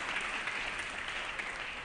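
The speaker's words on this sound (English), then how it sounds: "a round of applause" Steady, dense clapping fills the assembly floor chamber as legislators applaud a colleague's birthday, broad and even from start to finish with no pauses.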